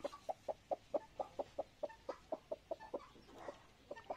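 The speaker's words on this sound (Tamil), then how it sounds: "இதுதான் அந்த வாத்து முட்டை இருக்கிற கோழி." A broody hen sits on duck eggs, one of which has already hatched. She gives a quiet, evenly paced run of low clucks, heard close and alone.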